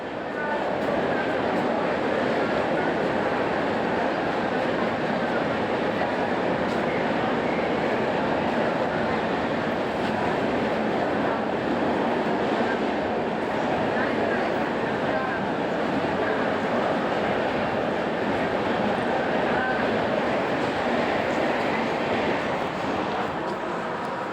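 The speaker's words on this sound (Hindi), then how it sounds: "फाइनली मुझे ट्रेन में बैठ गई हूँ और ट्रेन एकदम खाली थी" Mumbai commuter train at Wadala station, heard from inside as a steady, loud rolling rumble and rattle that continues unbroken for the whole stretch.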